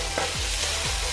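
Onions and rice fry for chicken and shrimp hibachi, a steady close sizzle broken by scraping stirs of a utensil across the hot pan, with no talking.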